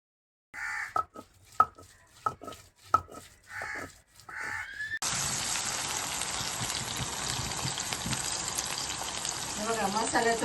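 Garlic fries in plenty of oil for a mutton biryani masala; after some opening talk and knocking, a loud, steady sizzle starts midway and carries on continuously.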